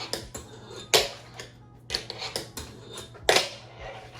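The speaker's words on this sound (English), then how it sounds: "It's literally like a nollie flip that I'm kind of doing off of the barrier." A fingerboard pops and clacks against a concrete barrier obstacle during nollie flip attempts, giving sharp close wooden taps and clicks in irregular clusters with quiet gaps between.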